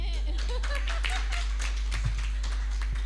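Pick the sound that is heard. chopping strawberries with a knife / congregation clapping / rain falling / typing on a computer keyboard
congregation clapping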